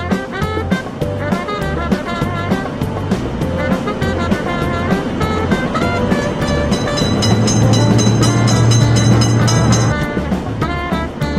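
Cartoon train passing a railroad crossing in a kids' video game, rumbling carriage sound and rising horn tone layered over bouncy game music, loud and continuous.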